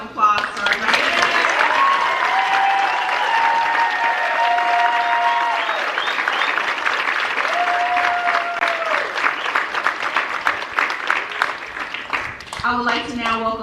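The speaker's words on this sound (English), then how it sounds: "Let's give one more round of applause for our graduates." A crowd applauds graduates at a university master's occupational therapy hooding ceremony, with loud sustained clapping and cheering, sung or called tones drifting over it and a voice cutting in at the very end.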